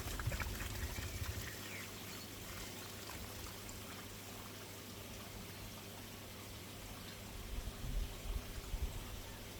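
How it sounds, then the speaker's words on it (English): Water poured out of a koi pond filter container, a soft, continuous splashing pour, fairly faint and steady, with a slightly louder gush at the start and end. "Let's empty some of this water out."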